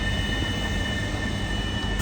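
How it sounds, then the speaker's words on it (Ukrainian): Constant low rumble and hum of a moving train heard from inside the carriage, with a faint high whine throughout. "Зараз ми в поїзді."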